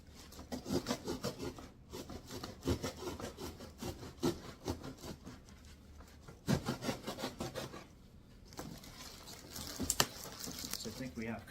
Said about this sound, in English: I'm going to cut down this side of the box